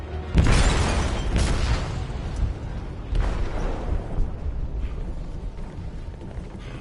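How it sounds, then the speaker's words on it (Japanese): Bomb blasting in a ship's cargo hold in Detroit: Become Human, a heavy booming explosion followed by a second boom and a long rumbling, creaking aftermath of straining metal that slowly fades. "貨物室で爆弾が爆発しました。"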